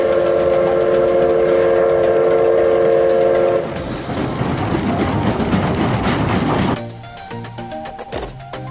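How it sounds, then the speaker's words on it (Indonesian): A Thomas toy train's whistle holds a steady tone, then clattering wheels and rattling carriages follow, fairly loud and continuous with a whistle near the end. "kalau ini kereta api Thomas."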